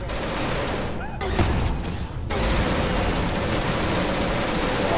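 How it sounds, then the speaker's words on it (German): Rapid gunfire crackles in Genesis Alpha One, a dense fusillade of close, loud bursts firing almost without pause over an alien shootout, with someone speaking briefly amid the shots. "Boah, hier ballert drauf rum"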